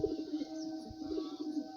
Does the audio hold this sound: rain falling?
no